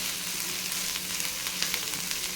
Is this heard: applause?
no